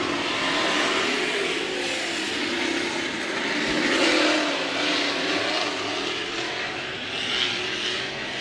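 Modified race cars roar around the dirt oval at Amsoil Speedway during a heat race, a dense, continuous engine drone that swells and fades as the pack passes, loud and unbroken.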